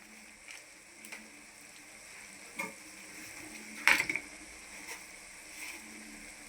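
Chili powder, garam masala and salt being stirred together in a pan for egg rice, a faint sizzle under soft, scattered scraping taps of a spoon.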